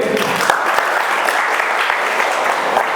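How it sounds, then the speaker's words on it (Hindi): Audience clapping at a campus-to-corporate interview communication session at ITI Patna, a dense, steady wash of many hands filling the room for about three seconds with no speech over it. "बहुत बढ़िया, पर ताली बजाइए भाई"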